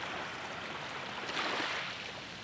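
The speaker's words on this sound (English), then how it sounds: "I can hear the waves." Ocean waves in the Cupid Parasite game scene, a continuous broad wash of surf that swells briefly in the middle, steady and fairly close with no voices.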